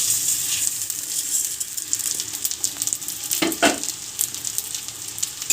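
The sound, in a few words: rice frying in pan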